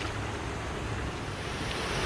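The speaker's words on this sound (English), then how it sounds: "There's a lot of water flowing over the top of it though" Water pours over the top of a canal lock on the Leeds Liverpool Canal, making a steady, loud rushing roar that stays even and constant from start to finish.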